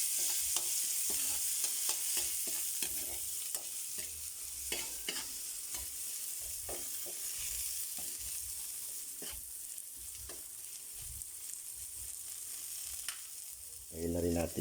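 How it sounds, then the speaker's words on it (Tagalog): Sliced onion sizzles in a pan with garlic while cooking pininyahang manok, a faint steady frying hiss broken by repeated scrapes and clinks of a stirring utensil, with a louder clatter at the end. "Lagyan na rin po natin yung sibuyas."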